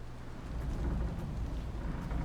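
Steady, dense patter of hail in a storm in Dragon Age Inquisition, a continuous rushing wash with low rumble underneath, loud and even throughout with no voices.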